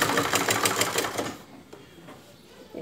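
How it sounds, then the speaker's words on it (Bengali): A sewing machine stitches the side seam of a chemise in a quick, close, rattling run for about a second and a half before stopping. "এভাবে ঘুরিয়ে আবার এই সাইডটা সম্পূর্ণ নিচ পর্যন্ত সেলাই করে নিয়ে আসতে হবে।"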